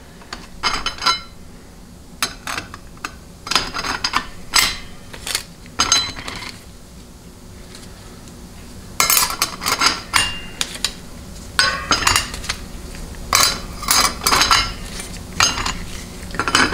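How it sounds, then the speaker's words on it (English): Steel clutch plates clink and clatter as they are handled and set into the direct clutch drum of a GM 200-4R transmission during a rebuild, with irregular sharp metallic knocks and jingles close by, coming in bursts with short pauses between. "it already has one direct clutch steel in here, so now we're going to add another one"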